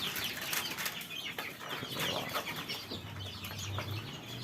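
Chickens cluck and squawk inside a chicken coop, with some wing flapping, several birds close by in a busy, overlapping stream of calls.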